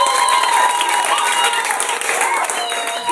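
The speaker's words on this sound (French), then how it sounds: "Est-ce qu'on peut acclamer Jésus pour ça d'abord?" A church congregation claps and cheers for Jesus in a dense, steady wash of applause that carries over sustained tones and voices throughout.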